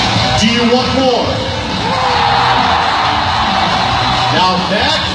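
Crowd at a Monster Jam motocross freestyle show at SM Mall of Asia Arena, Pasay City, roaring, whooping and yelling in a loud sustained wall of cheering, with shouted voices rising over the noise.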